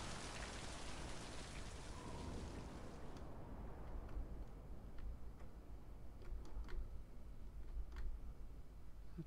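Steady rain falls in the video game Mind: Path of Thalamus, a dense, even patter with scattered ticking drops growing more distinct toward the end, with no voices.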